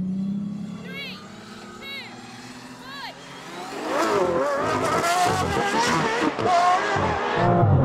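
An Aston Martin Valkyrie, a Vanquish and a V12 Vantage in a rolling drag race: calm at first with a voice and faint whining tones, then a loud roar of engines from midway that builds to the end.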